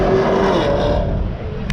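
At a Houston car meet, a loud car engine revs hard up close in one short burst with rising tonal whine, then eases off.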